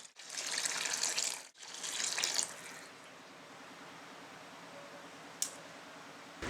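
Water gushes into a cooking pot for mushroom biryani in two strong pours separated by a short pause, then settles into a quieter trickle and simmer with one sharp click near the end.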